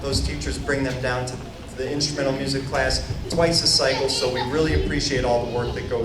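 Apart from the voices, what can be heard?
No everyday noises stand out.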